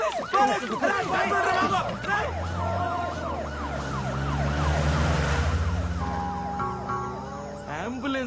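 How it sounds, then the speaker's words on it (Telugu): An ambulance siren sweeps up and down in rapid repeated wails, loud and close, shifting to a steadier tone near the end, while people talk and shout over it. "అంబులెన్స్ రా."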